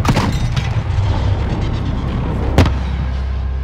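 Illumination flare rounds fired in a Modern Warfare combat mission, a heavy booming launch at the start followed by rumbling battle noise and a second sharp burst near the end, loud and close.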